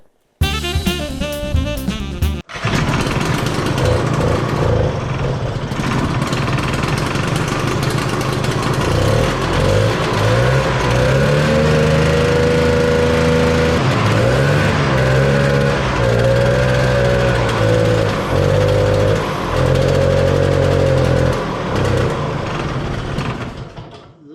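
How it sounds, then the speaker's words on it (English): A 1968 Ski-Doo Alpine 370 snowmobile engine runs steadily for the whole stretch. A loud, rough, buzzing drone rises and falls slightly, with no talking. "Let's get the muffler back on and see if we take it out for a little rip"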